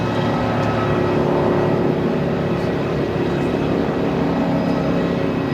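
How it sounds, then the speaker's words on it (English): An aircraft tug at Melbourne Airport runs with a continuous droning engine hum and a steady broadband rumble, constant in level throughout, with no talking. "Yeah, the tug is noisy, isn't it?"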